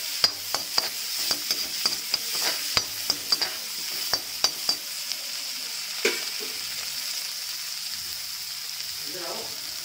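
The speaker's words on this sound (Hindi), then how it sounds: "अब इसके बाद हम इसमें ऐड करेंगे स्प्रिंग अनियन यानी कि हरा प्याज, और इसको हम करेंगे हल्का हल्का सौते" Spring onions lightly sautéing in a pan for homemade vegetable soup, with a soft steady sizzle and repeated sharp scraping taps of a spoon stirring, close and alone.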